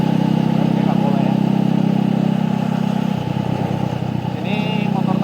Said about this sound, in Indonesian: Ini motor Tigernya untuk mesin ya, mesin overall sih bisa digeber juga